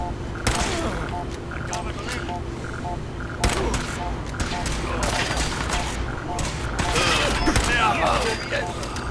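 Gunfire in Fallout 4: repeated sharp shots and bursts in a dense, busy stretch over a constant low rumble, with a louder flurry toward the end and speech mixed in.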